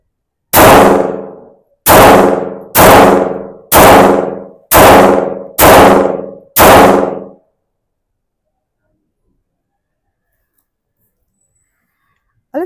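Seven sharp, loud gunshots from a Walther PD380 pistol ring out in a steady rhythm about one per second, each with a short decaying tail, followed by silence.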